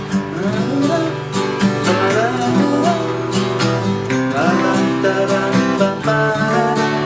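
Strummed guitar chords ring steadily in a relaxed progression, full and close, with no singing or talking.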